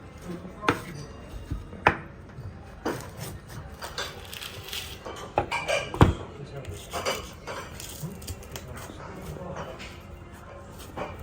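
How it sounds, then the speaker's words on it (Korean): Heavy knife chops and thuds on a cutting board as a roughly 25 kg tuna head is cut up, irregular and fairly close, with clattering and scraping between strikes and occasional voices in the background. "참치머리 눈알 해체 영상 보여드리겠습니다"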